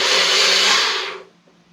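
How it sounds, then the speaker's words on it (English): A blender pureeing drained tomatoes runs in a loud, steady whir, then winds down and stops within about a second and a half. "I'm just going to puree them really quick. It's going to be loud."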